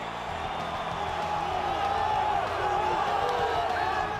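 A crowd cheers and roars during a fighter's walkout to the octagon in the EA Sports UFC video game, a sustained wash of voices with whoops rising and falling, fairly loud and continuous.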